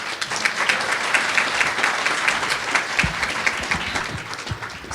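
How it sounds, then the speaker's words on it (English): Audience applause fills the room after an opening panel at a patient-advocacy conference, steady dense clapping throughout at moderate volume with no voices over it. "So can we give everyone another round of applause?"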